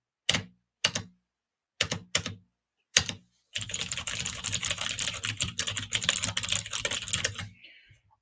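A mechanical gaming keyboard clacks: a handful of separate, sharp keystrokes with pauses, then a rapid, continuous burst of close typing. A springy space bar twang sounds among the keys before the typing fades.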